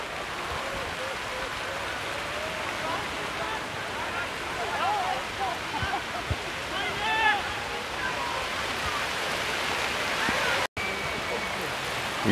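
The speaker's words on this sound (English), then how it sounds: "You should get a sense of how heavy this rain is now." Heavy rain pours down at an Oberliga Süd football match, a steady hiss heard by someone sheltering under a tree, with faint voices and crowd sounds under it.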